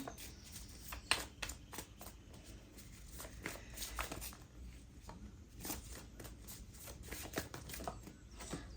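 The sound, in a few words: shuffling tarot cards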